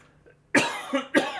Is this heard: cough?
yes